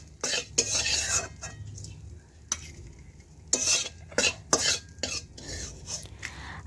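Small fish frying in a wok, stirred with a metal utensil: a run of sharp clinks and scrapes against the pan comes in bursts over a steady low sizzle, close and fairly quiet, with no talking.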